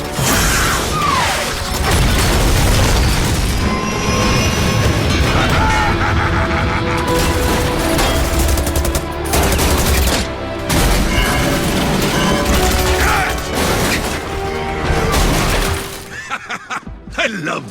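Rocket fire and explosions in an Overwatch game cinematic roar loud and dense, with booming blasts, crashing debris and rattling mechanisms layered over a continuous wall of noise that cuts out near the end.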